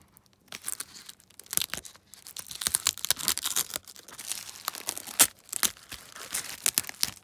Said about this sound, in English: let's see if I can peel this away for you guys.